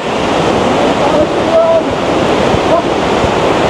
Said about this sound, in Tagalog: Ayan na ang falls.